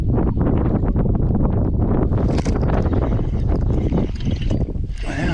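Strong wind buffets the microphone on a lake while bass fishing from a boat, with a continuous loud roar and rustle throughout and no talk.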